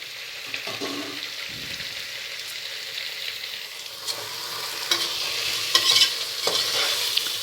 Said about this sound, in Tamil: ஒரு 5 வெங்காயத்தை போட்டு நல்லா வதக்கணும்.